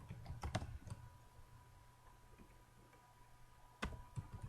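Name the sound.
computer keyboard typing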